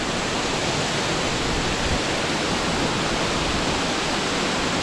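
A waterfall along a mountain trail in the Angeles Forest roars steadily at close range, a dense unbroken rush of falling water with heavy flow and no pauses.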